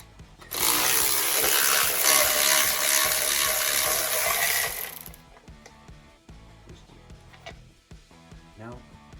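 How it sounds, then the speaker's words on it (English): An electric ratchet whirs loudly for about four seconds as it tightens bolts on a 4x4 wheel, then cuts off, leaving quieter clanks and handling noises with someone talking. "we're going to take our electric ratchet and the 5mm, tighten the 2 bolts, and reverse them off."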